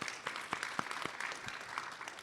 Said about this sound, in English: can we get a round of applause again for our panelists?